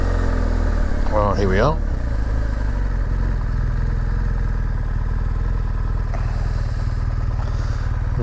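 A motorcycle engine runs steadily and close at a farm shop on the Isle of Skye, its low rumble holding throughout as the rider arrives and parks, with a brief whine early on and someone speaking over it.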